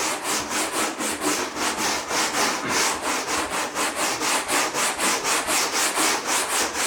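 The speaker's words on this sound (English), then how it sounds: "Very gently, and kind of rub off this foam." A stiff brush scrubs old foam off the headliner of a Jaguar XK Coupe in steady back-and-forth strokes, a close, even rasping rhythm of about three strokes a second with no talk.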